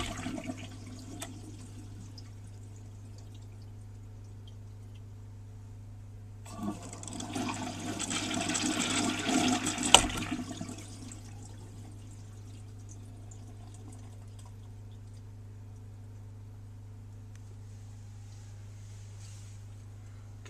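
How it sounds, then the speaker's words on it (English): A 1940 Standard Bering urinal flushes at just under 20 pounds of water pressure, a loud rushing surge of water lasting a few seconds before tapering off, over a steady low hum. "Let's see what happens when we flush."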